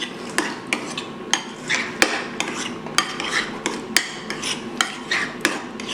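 A spoon stirs a garlic marinade mixture in a bowl for homemade kebab, with repeated sharp scrapes and clinks against the bowl in an uneven rhythm, close and fairly quiet, with no talking.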